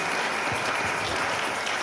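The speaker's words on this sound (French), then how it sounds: "Est-ce qu'on peut encore acclamer cela?" A church congregation at a sermon applauds, steady dense clapping from many hands that stays loud and even for the whole stretch, with no talking over it.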